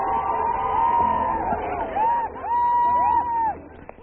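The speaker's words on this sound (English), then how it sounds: "They were cheering on Mammoth Mountain today." Crowd cheering and whooping at the Mammoth Mountain ski season opening, lively and sustained, with shrill hoots and shouts rising over a dense murmur.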